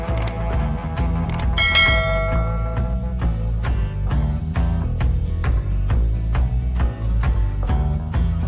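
A bell rings loudly and repeatedly in a steady rhythm, with bright ringing tones and a struck clang near the start.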